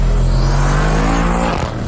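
Audi RS7 V8 engine revving loud and close, a rich sustained roar with a steady climbing tone that drops off abruptly at the end.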